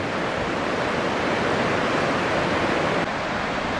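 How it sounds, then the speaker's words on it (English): The Spokane River rushing below a bridge at Riverside State Park, a loud, constant roar of churning water filling the whole sound with no voices. "Show you the river there. Yeah, it's really got a roar to it too."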